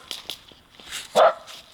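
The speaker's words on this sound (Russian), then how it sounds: "Ты на меня, что ли, гавкаешь, Шмелька?" Dog barking on an overnight riverside fishing camp, several short sharp barks scattered across the moment, one louder bark near the end, with no talk over them.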